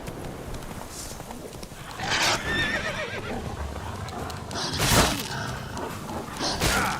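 Geralt's horse Roach in The Witcher 3 gallops with steady rhythmic hoofbeats, then gives several loud whinnies and snorts near the middle and end, close and clear, over faint game ambience.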